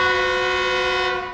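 A Pakistani passenger train sounds a long, steady, harmonically rich horn blast before leaving the station, loud and close, then fading slightly at the end.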